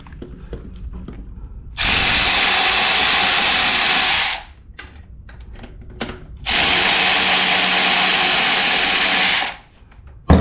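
A power tool runs in two loud, steady bursts of about three seconds each, spinning out 13mm bolts on a 2020 Ford Escape AWD differential, with quiet clicking and handling noises between.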